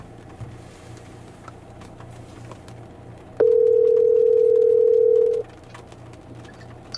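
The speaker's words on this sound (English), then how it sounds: "you can make phone calls from here." An outgoing call sounds through the Volvo XC40 Sensus car audio system as one long, steady, loud electronic tone lasting about two seconds. Quiet cabin noise surrounds it and nobody speaks.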